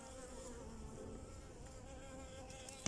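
Steady, continuous buzzing of bees around a newly filled nuc box hive, a dense hum that holds at an even level throughout, with a brief bump at the very end.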